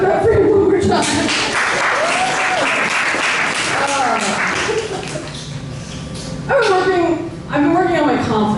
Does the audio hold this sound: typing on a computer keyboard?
no